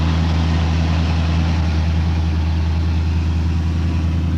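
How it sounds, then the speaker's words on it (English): A stock 1970 Donohue Javelin's engine idles with a steady, loud, low rumble through side-exit pipes and four mufflers, held close and constant with no talking. "You can hear the side pipes are there, they are loud, side pipes often are"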